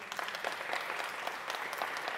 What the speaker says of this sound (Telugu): అందులో మీకు రాముడు అంటే ఇష్టమైన వాళ్ళు చప్పట్లు కొట్టండి